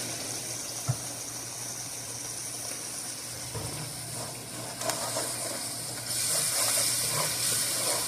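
Ginger garlic paste fries in oil for a lamb masala with a continuous sizzling hiss that swells louder near the end, plus a few soft clicks.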